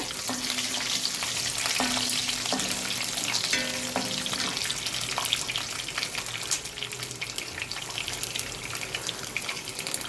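Cumin, mustard seeds, lentils, curry leaves and garlic cloves frying in oil for a Tamil anchovy fish curry, a steady dense sizzle throughout with a few brief clinks and scrapes, close and alone with no talk.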